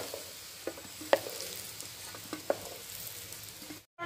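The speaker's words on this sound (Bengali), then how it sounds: "এবার কচুগুলো দিয়ে ভেজে নেব" Pieces of gathi kochu taro frying in hot oil in a pan, giving a soft, steady sizzle with scattered light crackles and pops, fairly quiet throughout.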